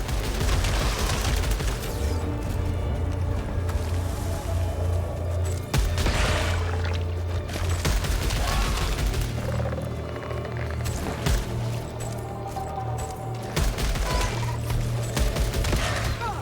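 Rapid gunfire from the player's weapon in the video game Returnal, a dense, continuous barrage of sharp shots layered over low booming rumble for the whole stretch, with no talking.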